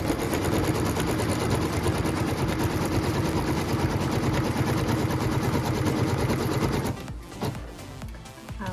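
A sewing machine runs in one long, steady, close whir while stitching the tack-down line on a pieced quilt block, then stops abruptly, leaving faint rustling.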